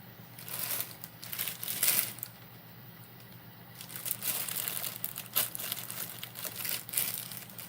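Plastic wrapping of a six-pack of ramen noodles crinkling and rustling in bursts as it is handled up close, with irregular crackles and pauses between them.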